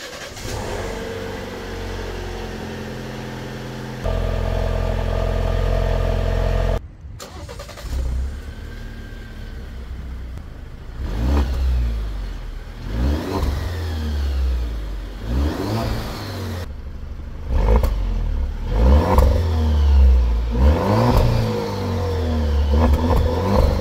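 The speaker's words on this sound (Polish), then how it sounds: "auto dobrze brzmi. No posłuchajcie sami" Alfa Romeo Stelvio Competizione 2.0 Turbo with a 280 hp engine and Q4 drive revving while being driven, with a deep idle hum followed by repeated surging accelerations and sharp breaks between gear changes.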